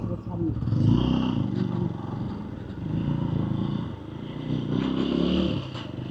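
A motorcycle engine rumbles in a surging, uneven drone with rises and falls in level, while someone talks over it.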